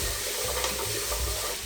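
Onions, grated ginger, crushed garlic, curry paste and sweet potatoes sautéing in a pot for a coconut curry soup, giving a steady close sizzle with light stirring scrapes throughout, no talking.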